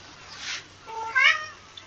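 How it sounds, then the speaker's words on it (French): A house cat indoors gives two short meows, one softer and then a higher, louder cry, in a quiet room. "le chat, il crie comme ça"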